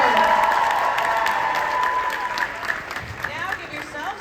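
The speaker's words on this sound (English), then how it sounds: "Big round of applause right now." Convention opening-ceremony crowd bursts into applause and cheering, a loud wash of clapping with whoops and shouted voices over it, tapering slightly toward the end.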